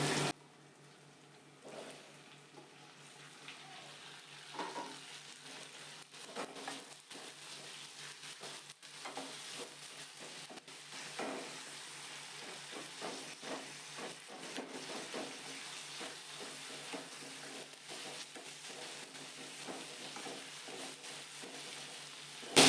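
Tomatoes fry in a pan for potato sagu, a poori masala, with a soft, continuous sizzle and occasional scraping stirs and light pops throughout, steady and close with no voices.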